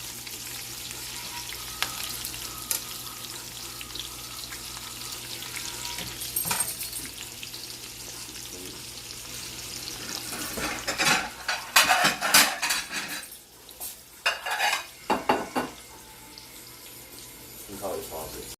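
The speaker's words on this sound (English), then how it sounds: "pretty much going to want to stir these veggies every few seconds so they don't overcook" A pan of mixed vegetables sizzles over low heat while a utensil stirs them every few seconds. The hiss runs steadily, then busier clatter and splashy, sink-like noises pile up in the later half.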